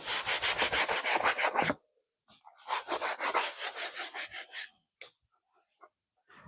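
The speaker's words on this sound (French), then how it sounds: "faut pas trop insister sur le haut parce que c'est pas ça qui nécessite le plus de ponçage" Wood is sanded by hand in two bursts of rapid, rhythmic back-and-forth scrubbing, loud and close, with a short pause between them and a few faint scrapes afterward.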